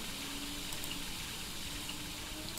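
Water running from a tap into a bucket in the game My Summer Car, a steady, even rush of flowing liquid that holds constant throughout at moderate volume, with no talking.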